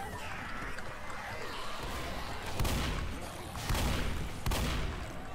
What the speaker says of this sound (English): Keep shooting, just keep shooting.